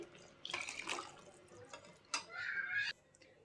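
Cooked cowpeas being poured into sizzling masala, a few short wet splashes and slides of the beans landing in the pan, soft and close with no talk.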